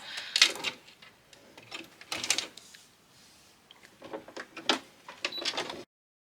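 A sewing machine stitches around a velvet ribbon tag in short close bursts of whirring, stopping and starting several times with quiet pauses between runs.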